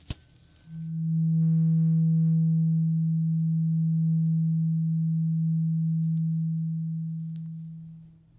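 A single sustained low hearing test tone, loud at first and slowly fading, holds for around seven seconds with no talking.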